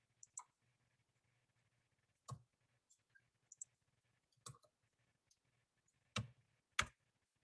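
Sparse keystrokes on a computer keyboard in a quiet room, irregular clicks in small bursts with faint hum underneath and no speech.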